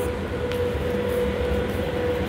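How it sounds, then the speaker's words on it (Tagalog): A train arriving at a Singapore MRT station, a steady loud rumble with a sustained mid-pitched whine, heard alone with no talk. "Ayan yung train."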